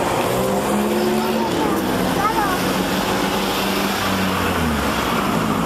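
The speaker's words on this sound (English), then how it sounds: "Oh, we got a car coming up behind us." A car drives up from behind on a town street in Iguala, Mexico, its engine a steady close rumble throughout with a brief tire-like squeal midway, while people talk over it.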